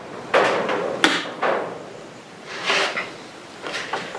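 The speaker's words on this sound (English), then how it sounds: "close the hammer down over the pan." A flintlock fusil's hammer being closed down over the pan: several sharp metallic clicks and clacks close up, with small handling noises between them and no talk.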